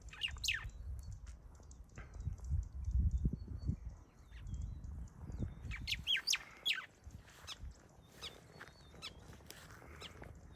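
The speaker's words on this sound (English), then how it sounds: "Maybe you guys can tell me the name of this bird." Bird calling from the bush near a nest, a run of sharp chirps and tweets that cluster toward the middle and end, heard over low rustling and outdoor background rumble with no talking.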